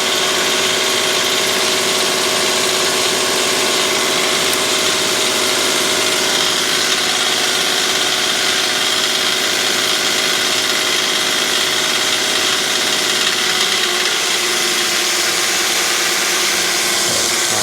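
Steady diesel engine of a New Holland LX885 skid steer running at high idle, a loud continuous mechanical drone with faint vibration throughout, no talking.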